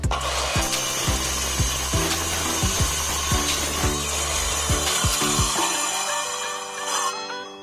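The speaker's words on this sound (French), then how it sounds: "La scie que j'utilise actuellement, c'est la scie Evolution" An Evolution power saw with a metal-cutting blade grinds steadily through metal, with a rhythmic series of low thumps as it cuts, then winds down near the end.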